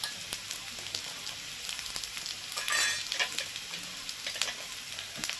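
Fried potatoes and vegetable stems frying in a pan with crushed garlic and a chopped onion, a quiet continuous sizzle with scattered clicks and spoon scrapes and one louder burst of crackling midway.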